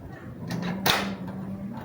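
A house door is pushed shut by someone carrying an armful of things, a brief thump and latch click in the middle of a short stretch, close by, with a low hum beneath.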